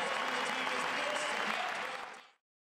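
A crowd at Gill Coliseum applauds as the Oregon State Beavers win the Pac-12 basketball title, a thick, roaring wash of clapping with some crowd noise that cuts off sharply near the end.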